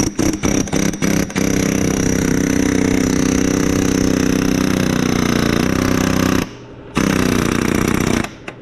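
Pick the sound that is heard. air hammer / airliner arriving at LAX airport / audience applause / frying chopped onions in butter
air hammer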